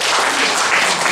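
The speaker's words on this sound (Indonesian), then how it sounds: "boleh tepuk tangan buat Tuhan Yesus." A church congregation at an Indonesian prayer service claps and applauds, a dense, continuous wash of clapping filling the whole brief moment.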